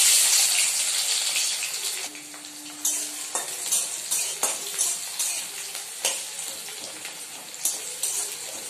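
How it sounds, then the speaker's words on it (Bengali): Onions dropped into hot mustard oil in a wok, a loud burst of sizzling frying that settles into steady crackling with intermittent stirring clatter, no voices. "তেল আমার গরম হয়ে গেছে। চলুন এবার পেঁয়াজগুলো ছেড়ে দিই।"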